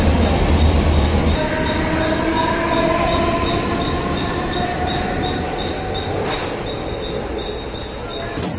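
A Mumbai local train runs between stations, with loud continuous rumbling and rattling of the carriage and thin, drawn-out wheel squeals over the top.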